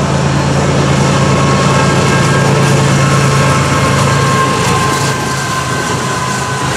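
FEC 105 freight train with auto racks at the head end passing close by at night, a loud, continuous rumble and rattle of railcars with a steady tone running through it, no talking.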